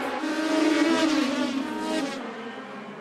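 A pack of race cars at Nashville Fairgrounds roars at full throttle under the green flag, a loud swelling engine drone that peaks and then fades slightly as the field pulls away toward turn one.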